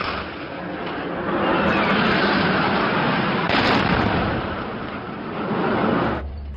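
Loud, continuous roar of airstrike explosions and heavy gunfire in Marawi City blending into a dense rumble, with a sharper burst partway through before it cuts off.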